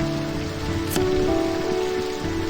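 Heavy rain falls in a steady, dense patter, with a low tonal hum underneath and one brief bright hiss partway through.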